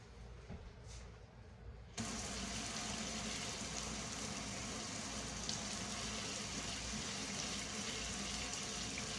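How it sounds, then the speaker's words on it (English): Tap water running steadily while a pan is washed at a kitchen sink, a quiet hiss that starts abruptly after about two seconds and continues evenly without talk. "I'm going to wash my pan up really quickly"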